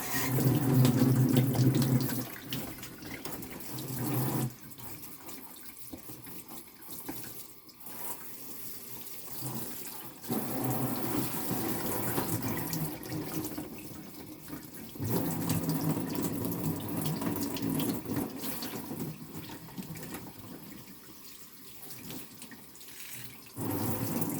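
Water pours steadily onto a potted zinnia bonsai, with a soft, continuous running and splashing that pauses briefly a few times and then resumes. No voices are heard.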